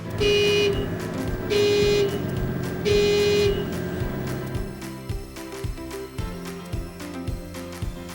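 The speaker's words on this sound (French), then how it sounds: "Testez le klaxon en appuyant sur le bouton haut du joystick de droite." Three long, loud horn blasts from a Potain tower crane sound in a row with short gaps, followed by rhythmic mechanical clunking and machinery hum.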